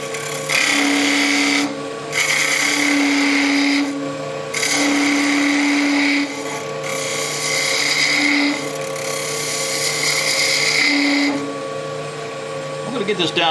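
Wood lathe turning end-grain waste wood away on a goblet, a steady whirring cut in several bursts separated by short pauses, close and fairly loud.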